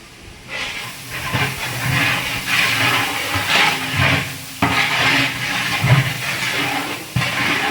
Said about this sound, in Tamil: இப்போ தக்காளி சேர்க்கணும்.